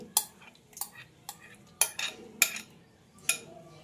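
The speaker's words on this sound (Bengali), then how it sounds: "এবার আমের পাল্পগুলোকে সব দিয়ে দেবো মিক্সচারের ভেতরে" A spoon scrapes and taps against a mixer jar while raw green mango pulp goes in, a string of close, sharp clinks at an irregular pace with soft scraping between them.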